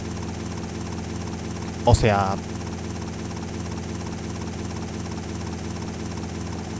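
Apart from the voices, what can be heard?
helicopter flying and shooting in the video game GTA Vice City Stories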